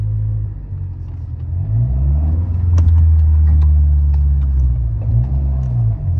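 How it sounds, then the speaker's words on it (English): An engine on a stock-ECU car converted to hydrogen labours under hard acceleration. Its low, steady rumble swells and strains, with faint clicks and ticks above it and no talking. "I have to really accelerate in order to get any sort of power out of it."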